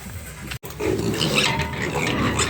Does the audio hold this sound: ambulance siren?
no